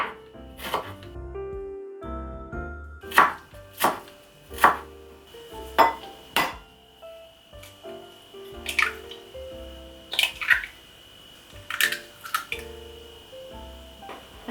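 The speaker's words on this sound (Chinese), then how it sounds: "洋葱切片，然后我们切片是往横的切，不是往直的切。" Knife cutting an onion crosswise into slices on a cutting board, a series of distinct, fairly close chops spaced irregularly about a second apart, with no talking.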